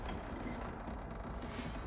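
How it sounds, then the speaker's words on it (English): Heavy stone doors grind open in the Crimson Desert video game, a steady low rumble with creaking, scraping texture that holds at a constant level throughout, with no talking. "then we wait for another set of doors to open"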